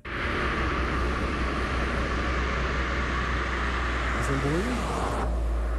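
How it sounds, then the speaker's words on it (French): A car drives along a conventional road surface and crosses onto noise-reducing asphalt right at the listening spot, giving a loud, steady roar of tyres and engine that runs the whole way through and falls off sharply near the end. "C'est une voiture qui arrive sur une chaussée classique et qui, pile devant nous, va passer sur du bitume anti-bruit."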